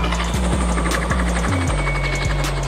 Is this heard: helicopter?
yes